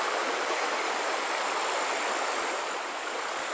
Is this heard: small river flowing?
yes